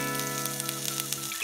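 Mustard seeds, chana dal and green chilies fry in hot oil with a dense, steady sizzle and small pops, close and continuous with no voices.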